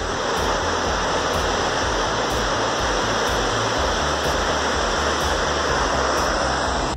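Palacala waterfall near San Jerónimo de Surco, Huarochirí, Lima, Peru, roars as a steady, loud wash of falling water, close and unbroken throughout with no voices.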